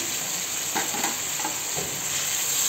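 A pan of radish chutney with soaked tamarind and greens is stirred, giving soft scraping strokes over a steady sizzling hiss, close and moderately loud, with no talk.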